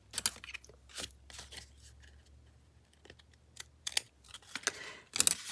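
An old printed image cracks as it is folded by hand, giving sharp, scattered crackles and crisp papery snaps at close range over a quiet background.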